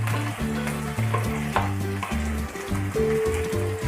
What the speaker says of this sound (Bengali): এটাকে ভালোভাবে একটু ভাজা ভাজা করে নেব।